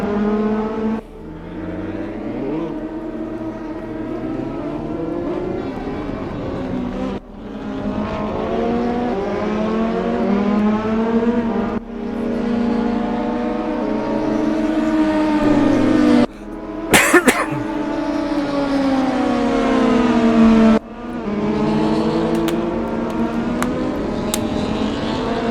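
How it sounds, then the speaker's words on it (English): DTM race cars at the Nürburgring, loud engines revving and shifting through gears in long rising sweeps, with abrupt cuts between passes and one sharp crackle mid-run, close and continuous. "The sound of these cars is amazing, isn't it, folks?"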